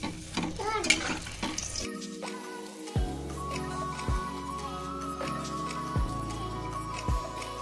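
Anarsa made from rice flour and jaggery dough fry in hot oil, a steady close sizzle with a few metallic clinks of a utensil against the pan.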